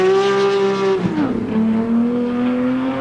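Rally car racing fast on a tarmac stage after leaving a gravel section in the Yugoslav Rally Championship, a loud close engine whine that drops sharply as it shifts gear, then climbs steadily again.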